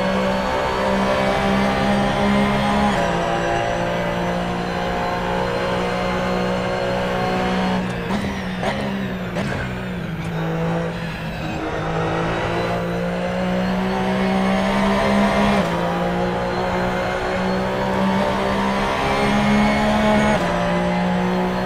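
Race car engine on a lap in the sim racing game Assetto Corsa, a loud continuous drone that climbs through revs, drops abruptly on shifts and braking with brief tire noise, then pulls hard again, no talk.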